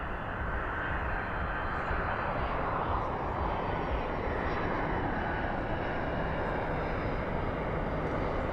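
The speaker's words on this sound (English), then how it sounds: "Spoilers up, reversers out on that" Night landing at DFW airport, a 767-300 freighter deploying spoilers and thrust reversers: a loud, continuous broadband engine roar that swells and holds throughout, with no talk over it.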